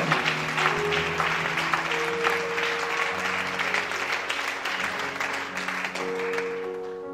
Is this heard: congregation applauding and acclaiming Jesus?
yes